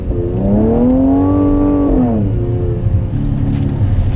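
A Mercedes-AMG C43 convertible's six-cylinder engine revs up hard on a snowy road, its tone climbing steadily then dropping back and settling into a lower drone, loud and close with no talking.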